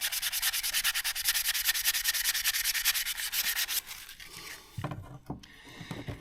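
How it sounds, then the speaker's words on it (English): Sandpaper rubbing back and forth across wooden parts of a Mirror dinghy under repair, a fast steady scratchy rhythm, close and loud, slowing into a few scattered strokes at the end. "Might need some slightly higher grit sandpaper and make this a bit quicker."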